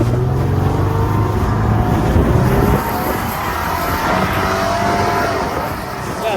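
A car's wheels spin on grass as the limited slip differential shifts side to side, a loud continuous engine roar and tire churn that steps down in pitch midway, with no talk.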